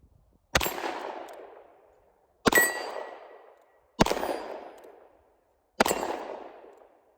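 Four sharp shots from an Armscor M206 .38 Special snub-nose revolver fired single action, spaced about one and a half seconds apart, each a loud crack with a decaying ring-out, no talking.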